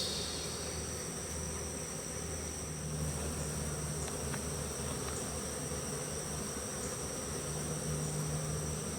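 Honeybees from a caught swarm buzz around the entrance of their new hive, a continuous droning hum of many insects close by with some faint background noise and no talking.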